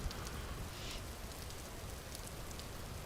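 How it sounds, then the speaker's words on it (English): Rain falls in the survival game Vintage Story, a dense, even hiss of drops that continues without a break and with no voices. "Wherever it's not raining."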